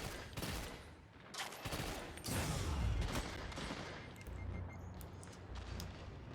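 Premonition pulse rifle in the shooter game Destiny 2, firing short three-round bursts in quick succession amid dense, reverberant gunfire and impacts, loud and continuous with no voices over it.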